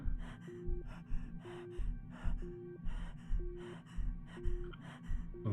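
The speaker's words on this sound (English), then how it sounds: "You can hear our breathing's getting more and more rapid." Rapid, heavy breathing of an astronaut in a spacesuit in the space game ADR1FT, a repeating cycle of sharp gasping inhales and exhales, close and loud over a low electronic hum, with no speech.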